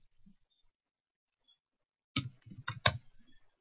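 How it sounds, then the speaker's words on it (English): Typing on a computer keyboard while entering a contact's details, a short quiet burst of close key clicks after near silence, with no talk. "And so I will type her information,"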